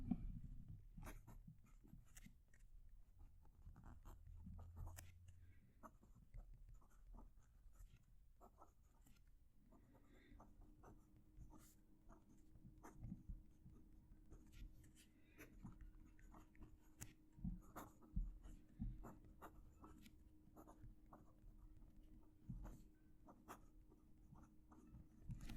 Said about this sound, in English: I'm going to move the mic closer to the paper so you can hear the pen write